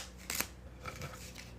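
Scissors snip twice in quick succession near the start, crisp and close, to cut a deck of cards, followed by a couple of softer rustles.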